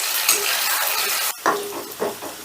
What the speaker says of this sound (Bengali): চিকেনগুলোকে হাই হিটে আমি বেশ লাল লাল করে ভেজে নেব